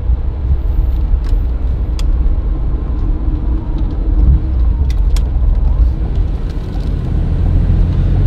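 A Porsche 911 Targa SuperSport with an air-cooled 3.2-litre flat-six boxer engine drives at night, its steady rumbling drone heard from inside the car with faint clicks and rattles.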